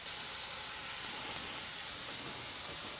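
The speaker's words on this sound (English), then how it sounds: "while you're browning the bacon right now is you want to render the fat from the bacon" Bacon slices sizzle in a pan over medium-high heat, a steady dense hiss and crackle of frying fat, continuous and close with no talking.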